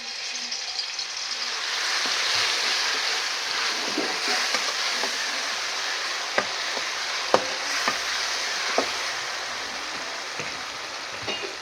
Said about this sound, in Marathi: तेल गरम झाले आता मिरची घेते टाकून